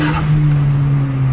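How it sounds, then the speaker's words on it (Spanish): A car engine with its exhaust open rumbles loudly and close, a low steady drone held for a brief moment. "ahora sí vamos a escuchar este bebé con el escape abierto"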